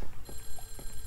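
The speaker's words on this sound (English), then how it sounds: "So you're not gonna answer the fucking phone, Jennifer?" Telephone ringing in the retro horror video game Clock Tower, a clear electronic ring with short repeated pulses, loud and close, with no talk over it.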